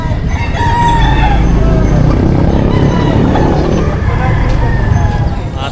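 Chickens and a rooster at an outdoor livestock market where cattle and fowl are sold, loud and close, the rooster crowing repeatedly over constant clucking, with someone talking and faint traffic behind.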